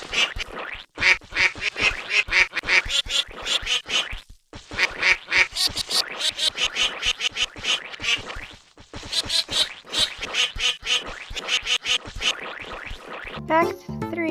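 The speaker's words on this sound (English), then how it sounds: "you can actually sing happy birthday by quacking" Rapid, repeated cartoonish bird quacks in a Roblox game, playing Happy Birthday in a busy melodic run, nearly continuous with a few short pauses, loud and close throughout.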